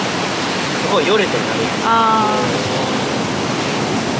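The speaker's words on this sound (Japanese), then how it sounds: "風強い。" Strong wind at the seaside near breakwaters on a surfing beach blows across the microphone in a constant dense roar, while brief voices speak over it.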